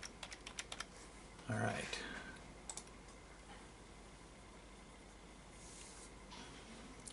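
Fingers type a name and password on a computer keyboard while setting up a Mojave Hackintosh build: quick scattered key clicks at the start, then sparse taps, with a brief spoken remark and soft room hiss.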